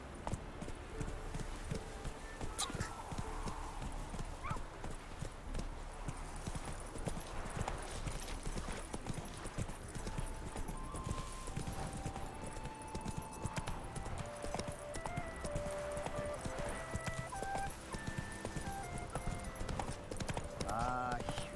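Roach the horse in The Witcher 3, a continuous rhythmic clip-clop of hooves at a gallop, steady and fairly close, mixed with game sounds and talk.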